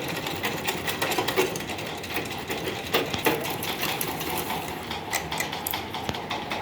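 Domestic sewing machine stitching a dhoti salwar, a steady close whirring hum with fine mechanical ticking, continuous and fairly loud throughout, with no talking.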